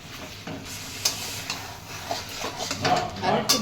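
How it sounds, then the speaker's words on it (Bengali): Marinated chicken frying in a pan for chicken posto, a continuous sizzle broken by irregular scrapes and clinks of a spatula stirring against metal, up close. "এবারে মাখিয়ে রাখা চিকেনটা দিয়ে দিলাম। একটু কষিয়ে নেব।"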